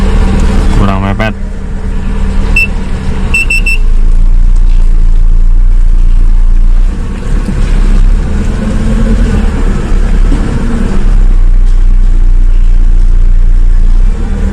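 A car's engine idles and creeps in a steady, loud low rumble while a beginner driver parallel parks in light drizzle, with voices talking over it throughout.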